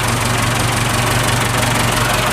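A Ford tractor engine with an 8x2 gearbox runs loud and close at a steady idle, a dense, even low rumble with slight knocking texture and no pauses or voices.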